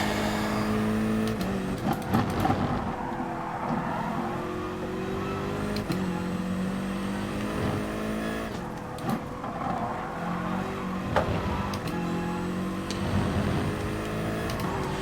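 Race car engine in the driving game GT Sport, a continuous loud drone that climbs and falls through repeated gear shifts and revving, with no voices over it.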